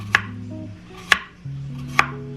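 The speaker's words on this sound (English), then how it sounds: "First, I'm going to slice my cucumbers" A knife slices cucumbers for a pickled cucumber banchan, three crisp separate chops on a board about a second apart, close and clear over a soft steady background tone, no talking.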